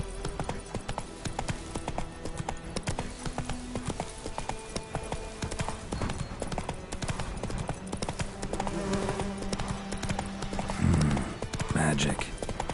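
A horse trots in Witcher 3 with a steady, quiet clip-clop of hooves, layered with a game soundscape and insect buzz, while a voice speaks briefly near the end.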